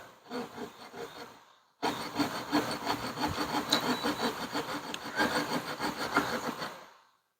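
A hand saw cuts through a piece of wood held in a clamp, a short stroke burst, then a steady run of rhythmic rasping strokes, close and moderately loud, ending in silence.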